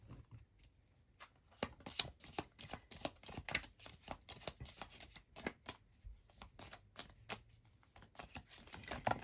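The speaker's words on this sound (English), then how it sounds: "divide these decks because they are so big. And then we will shuffle each of these little piles." Large tarot decks, divided into small piles, are shuffled in quick irregular bursts of soft card riffling and tapping, close and quiet, with no voices.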